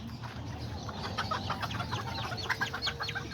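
A small hen clucks in short, quiet bursts inside a coop, with soft rustling between the calls and no talk.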